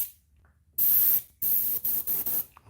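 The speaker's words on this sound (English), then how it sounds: "And let's start spraying" Aerosol spray can hissing in several bursts outdoors: one long spray, then a series of shorter sprays separated by brief pauses, loud and close.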